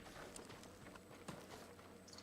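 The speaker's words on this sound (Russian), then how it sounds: "Это что за лошадка?" Horse hooves clip-clop at a walking pace in Ghost of Tsushima, faint and somewhat distant beneath a steady bed of ambient game noise, with no talking.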